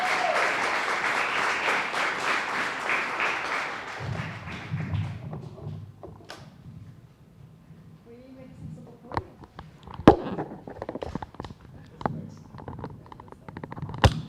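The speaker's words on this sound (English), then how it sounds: "So please, a round of applause as Commissioner McCosh takes over." A burst of applause from a civic meeting audience for a few seconds fades out, followed by scattered taps and thumps with a few voices.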